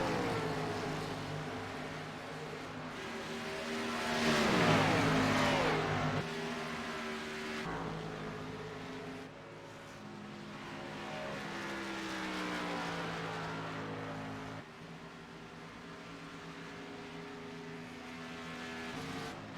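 Race cars lap a track during a race broadcast. Engines swell and fade as cars pass, one loud passing surge is followed by a steady, layered drone of several motors at a distance.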